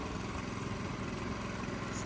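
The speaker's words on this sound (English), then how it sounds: "you can hear when the engine revs, it doesn't speed up" Small 6.5 hp Honda gas engine driving a friction-drive bicycle, running steadily at close range with a constant buzzing drone and no clear change in pitch, no talking.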